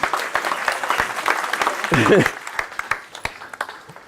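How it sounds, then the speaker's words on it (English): Applause from the audience at a residents' meeting in Moorooka, a scattered patter of hands that swells briefly and then tapers off into a few sparse claps, with people talking over it. "Give him a round of applause."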